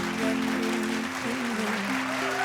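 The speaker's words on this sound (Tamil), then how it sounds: "இப்போ நம்ம கொடுக்குற கைதட்டல் ரொம்ப முக்கியம்." Audience applause for a son appearing on stage at a Tamil event, a dense continuous clapping that fills the whole stretch at steady loudness with no talk over it.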